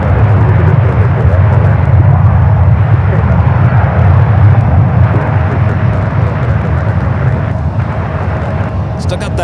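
A Boeing 777-300ER jet airliner bound for Tokyo Haneda at San Francisco airport gives off a loud, steady low engine roar that fades slightly toward the end.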